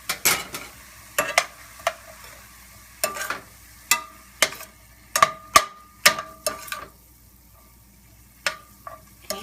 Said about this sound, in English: you're going to go ahead and saute this for maybe 3 to 4 minutes just to cook the onions and the garlic